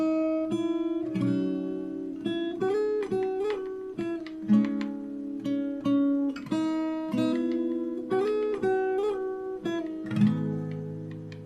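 A fingerstyle acoustic guitar plays a song, a steady run of plucked melodic notes over ringing chords with occasional strums, close and clear with no voices.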